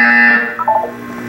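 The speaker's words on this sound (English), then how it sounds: "You will hear a buzzer." In the Portal 2 video game a buzzer sounds, a loud, harsh electronic tone that holds steady and then dips and wavers briefly before trailing off, heard alone without speech.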